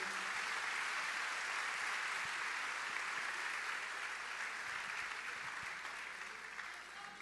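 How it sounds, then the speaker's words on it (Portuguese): A church congregation claps together in sustained applause, a dense even roar of many hands that holds steady and tapers slightly toward the end, with no voices over it. "Querem novamente recebê-lo, bem-vindo, com uma linda, uma bonita salva de palmas ao Senhor."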